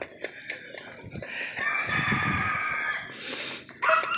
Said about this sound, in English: That rooster loves to crow